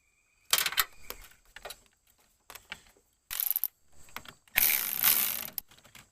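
Hand tools and hardware rattle and clack in short, loud bursts while the positive battery terminal is tightened during a lighted running board install on a 2020-2024 Chevy, with ratchet-like clicks and metallic clatter close by.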